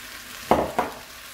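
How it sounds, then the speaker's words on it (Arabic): Chopped squash drops into a hot soup pot in two quick bursts, each flaring into a loud sizzle that fades into a steady low frying hiss. "دابا غنزيد القرعة"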